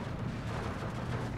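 A tank gun firing in the WWII strategy game Steel Division 2, a dense, rumbling low boom that rolls on through the whole short stretch, with no speech over it.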